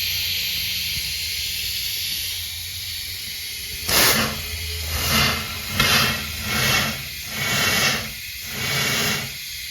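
Compressed air blown through a vehicle's transmission cooler lines during a flush, heard as six hissing, sputtering bursts in a steady rhythm over a constant background hiss, close by.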